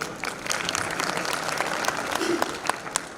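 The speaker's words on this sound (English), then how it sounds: "A big clap for him, please." Audience applause fills a hall at a management conference, scattered but lively clapping with a few sharper individual claps standing out, over a faint murmur.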